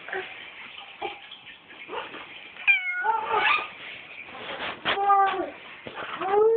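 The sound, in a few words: cat meowing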